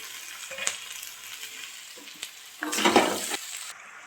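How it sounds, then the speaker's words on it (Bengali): Chopped cabbage hits a pan of fried spices including ground coriander, with soft sizzling, a couple of clicks from the spatula, and a louder burst of stirring and frying near the end. "এখন আমি এর ভিতরে দিয়ে দেবো কেটে রাখা বাঁধাকপি, ছোটো করে কেটে রাখা বাঁধাকপি।"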